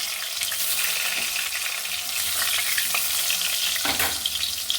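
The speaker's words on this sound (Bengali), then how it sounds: "এবার কচুটা আমি ভেজে নেব।" Wild taro (jangli kachu) frying in hot oil in a pan, a steady close sizzle with scraping stirs and brief spatter bursts, continuous and without voices.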